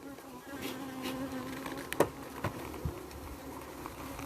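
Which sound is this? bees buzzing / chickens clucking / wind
bees buzzing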